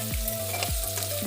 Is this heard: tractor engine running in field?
no